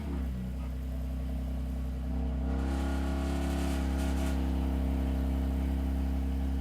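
Ford Raptor truck engine cranking and catching, then settling into a steady, loud idle with a deep rumble and a brief rev partway through, heard up close with no talking.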